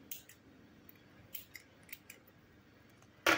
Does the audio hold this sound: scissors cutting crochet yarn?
yes